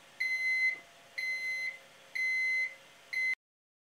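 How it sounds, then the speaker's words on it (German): Piezo buzzer on an Ortur Laser Master 2 Pro laser engraver, linked to its flame sensor, sounds four shrill, steady alarm beeps in an even rhythm before cutting off, close and clear. "Daneben ist ein Piezo-Summer zu sehen, mit dem ein Alarmton ausgegeben wird"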